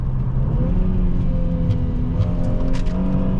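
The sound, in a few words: 2015 Mercedes-Benz E350 4MATIC car accelerating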